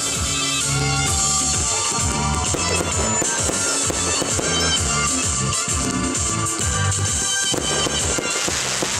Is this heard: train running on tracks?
no